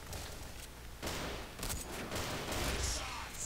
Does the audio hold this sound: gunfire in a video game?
yes